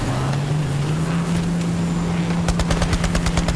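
Vehicle-mounted machine gun firing in the video game Borderlands 3, rapid evenly spaced bursts breaking in near the end over a steady engine drone.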